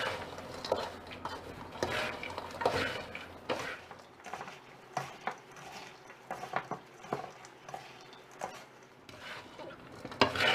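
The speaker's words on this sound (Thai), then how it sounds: "ผัดไปเรื่อยๆ ด้วยไฟอ่อนค่ะ" Pork crackling chili paste being stir-fried on low heat, a run of scraping spatula strokes and clinks against the pan with a soft sizzle underneath.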